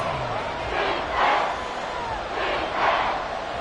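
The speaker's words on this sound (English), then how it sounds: "The Arrowhead crowd in full roar." A stadium crowd at Arrowhead roars in a Madden football video game late in the fourth quarter, a continuous, wash-like roar that swells in two broad surges, with no commentary over it.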